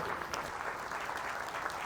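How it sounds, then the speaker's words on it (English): An audience claps steadily in a dense, even burst of applause, sustained throughout without voices standing out. "the rest of the room is going to give you a huge round of applause for helping out"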